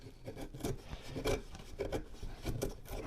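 A knife carves hard into wood, the blade forced through in rough, repeated rasping strokes, each a short scraping burst at an uneven rhythm, close and fairly quiet with no speech.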